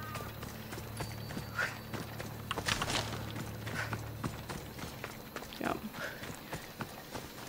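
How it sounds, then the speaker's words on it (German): Rhythmic hoof clip-clops of a horse at a brisk pace in the video game Assassin's Creed Odyssey, mixed with game ambience and a low hum, with a brief spoken word partway through. "Wir nehmen unser Pferd, dann sind wir schneller."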